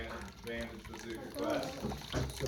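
Water runs and pours into a measuring cup for a homemade cake, a continuous soft liquid trickle up close while voices talk over it.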